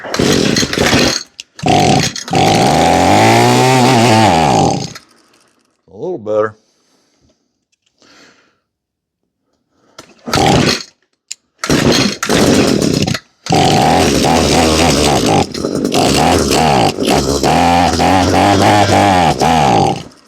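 Echo string trimmer with running issues, its small two-stroke engine buzzing loud and close, revving up and dropping back in long bursts separated by quiet gaps where it idles down or cuts out.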